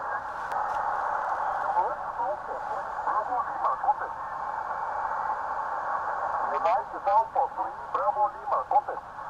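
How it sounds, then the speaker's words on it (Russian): Amateur radio operators' call signs come through a radio receiver in a remote wilderness settlement: faint, warbling voices and tones buried in a steady band of hiss and static, fading in and out across the whole stretch. "Слышишь позывные?"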